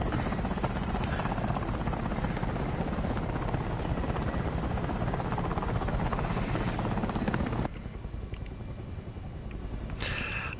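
A helicopter in War Thunder whirs with a steady, loud rotor drone that drops in level and turns thinner near the end, with no talk over it.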